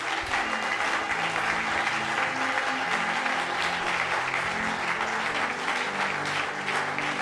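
A church congregation applauds after a closing prayer, giving steady, dense clapping from many hands throughout, loud and continuous with no pauses.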